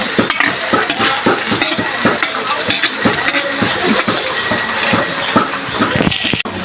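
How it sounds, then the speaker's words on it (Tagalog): Chopped ginger sautés in a hot pan for a Filipino fiesta dish, a steady bright sizzle under repeated scraping and clinking strokes of a spoon stirring against the metal, close and continuous. "Ayan na po natin ang luya. Ayan, talalabasin lang po natin yung kanyang aroma."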